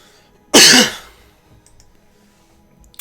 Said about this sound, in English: I'm just coughing right to the fucking mic